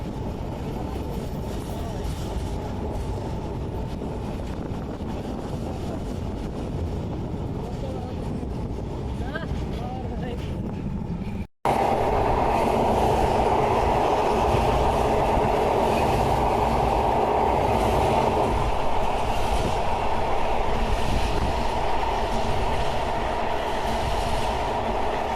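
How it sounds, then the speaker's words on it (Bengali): A train rolls slowly on its run toward a station near the Padma bridge, a steady rumbling wagon noise with faint clatter throughout, briefly cutting out midway before returning louder and closer. "এখন ট্রেন ধীর গতিতে চলতেছে, কারণ সামনে স্টেশনে থামবে"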